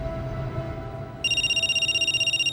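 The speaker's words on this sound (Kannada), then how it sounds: "ಸಾಮ್ರಾಟ್ ಆಫೀಸಿಂದ ಹೊರಗೆ ಬರ್ತಿದ್ದಂಗೆ ಅವನ್ ಫೋನ್ ರಿಂಗ್ ಆಯ್ತು" A mobile phone rings with a rapid, pulsing electronic tone that cuts in partway through. It plays loud and alone over faint background noise.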